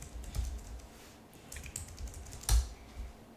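Someone types a password on a computer keyboard, giving a short run of soft, quiet key taps with one sharper press near the end.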